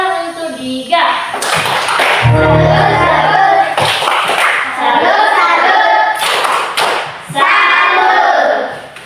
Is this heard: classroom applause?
yes